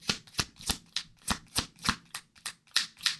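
Tarot cards shuffled by hand in a steady run of about a dozen crisp, close riffling bursts, each a bright papery flutter spaced roughly a quarter second apart, with no talking over them.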